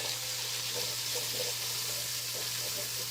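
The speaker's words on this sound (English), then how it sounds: "So we sweat these onions down" Onions sweat in a pan on the stove, giving a soft, steady sizzle and hiss that runs unbroken and fairly faint throughout, with no talk.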